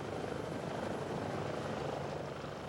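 A Life Flight medical helicopter's rotor and engine roar steadily and loudly throughout, close by, with a dense continuous drone and no voices.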